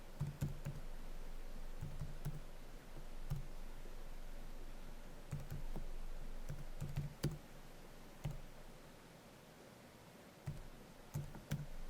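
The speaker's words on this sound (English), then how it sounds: "keep typing in the wrong numbers" Numbers are typed on a computer keyboard in short, quiet bursts of key clicks separated by pauses, close and faint with no talking.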